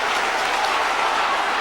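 A rugby league crowd at St Helens v London breaks into loud, sustained applause and cheering, a dense, even roar of clapping that holds steady throughout.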